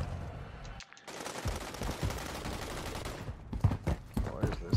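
Gunfire crackles in a shooter game on a scrap yard map, rapid bursts of shots and sharp impacts running almost continuously, fairly loud and close, with brief quieter gaps.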